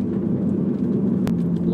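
A John Cooper Works Mini engine idles and hums with a low steady rumble, close by, with a brief sharp click near the end.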